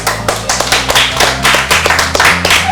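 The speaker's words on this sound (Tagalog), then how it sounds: "palakpak muna" Children clap together in a quick, lively burst of rapid, uneven claps, close and loud, with some Filipino chatter in the background.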